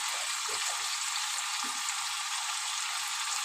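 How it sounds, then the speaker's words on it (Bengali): Potatoes frying in a pan for aloo posto give off a steady, close, bright hiss and crackle of hot oil, with a few faint lower bumps underneath. "চল আলুটা একটু ভেজে নিই"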